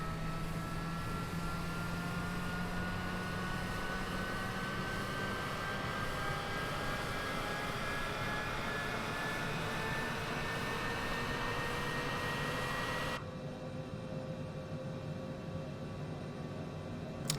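A MiG-15 jet engine runs in the Microsoft Flight Simulator 2020 game, a steady, fairly faint rumbling roar with a whine that slowly climbs in pitch. Near the end the roar drops and grows duller, and it continues without any voices.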